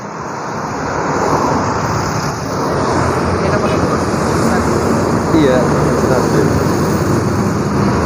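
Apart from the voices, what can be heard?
Madu Kismo bus passing by on the road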